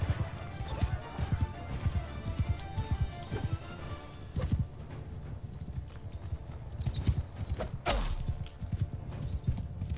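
Horse hooves clip-clop steadily in the video game Mount & Blade II: Bannerlord, a rapid, continuous galloping rhythm with thuds and clashes mixed in, moderately loud, with faint voices in the background.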